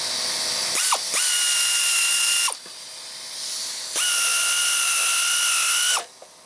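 Power tool driving a thread-cutting tap into a bolt hole on a John Deere LA110 42-inch mower deck during spindle repair, in two loud sustained high-pitched whirring bursts with a brief pause between, up close with no talking.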